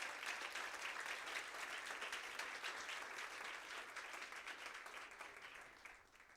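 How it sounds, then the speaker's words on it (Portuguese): A church congregation applauding during a service, a dense, steady wash of clapping that holds for several seconds and gradually fades, with no talking over it. "Vamos aplaudir ao Senhor"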